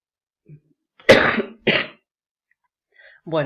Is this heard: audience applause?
no